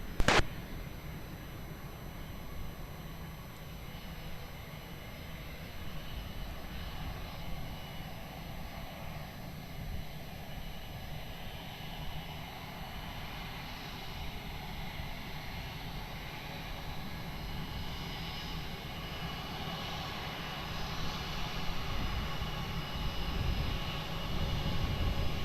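An aircraft engine roars continuously at Lisbon Airport, a broad sustained rumble that holds steady and swells slightly louder toward the end, with a brief sharp click at the very start.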